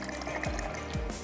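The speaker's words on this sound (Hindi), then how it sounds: "तो तकरीबन 1 से 2 कप मैं इसमें शामिल कर देती हूँ पानी" Water is poured into a cooking pot holding soaked rice and mash lentils for shola, making a steady splashing, gurgling fill with a couple of small glugs, close and without talk.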